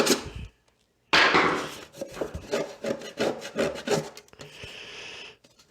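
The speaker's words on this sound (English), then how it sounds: "It scratched it like you would expect something to scratch, but it didn't start peeling off." A screwdriver scratches across a surface painted with Rust-Oleum Painter's Touch 2X primer on a Riva boat, giving a close, gritty rasping scrape in short repeated strokes after a brief opening scrape and pause.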